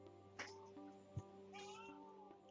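A cat meows twice, close and clear, in a quiet indoor room with a steady electronic hum behind it and a short thump between the calls.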